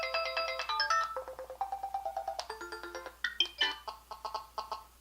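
A soft, gentle ringtone on an Android 4.4 phone plays a lilting sequence of light chiming notes in a steady repeating melody, moderately quiet and close, with no voices.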